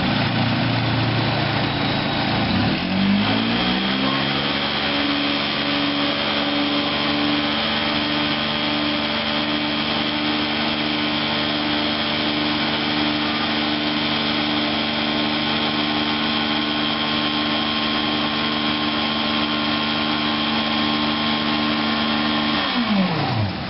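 A truck-mounted carpet-cleaning extraction machine spins up, its engine and vacuum surging quickly before settling into a loud, steady, droning whine. The sound holds constant at close range.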